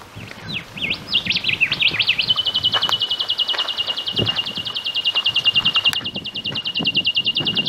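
A bird chirps outdoors in the Blue Mountains, a fast, steady run of repeated high notes that starts out varied and then settles into an even trill lasting several seconds, loud and fairly close.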